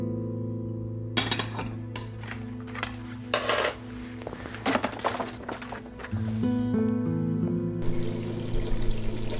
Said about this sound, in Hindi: प्लेट्स धो रही हूँ।